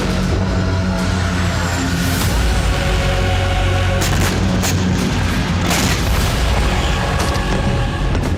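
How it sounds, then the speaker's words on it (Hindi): Israeli airstrikes in Beirut, loud continuous rumbling blasts and booms layered into a dense roar that stays heavy from start to finish, with no clear voices. "इजरायली एयरफोर्स ने बेरूत एयरपोर्ट के पास भी कई विस्फोट किए"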